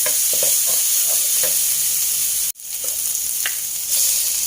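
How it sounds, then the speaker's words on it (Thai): Chili and garlic stir-fry in pork lard in a pan with a loud, continuous sizzle and crackle, broken once by a split-second drop in sound midway. "ใส่พริกกระเทียมลงไปค่ะไปผัดให้หอมเลยนะคะ"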